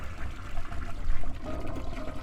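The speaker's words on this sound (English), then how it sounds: "I heard a flush come from the guest room." A toilet flushing in a guest room, a short rushing gush of water that swells and then settles into a trickle, fairly close and heard alone.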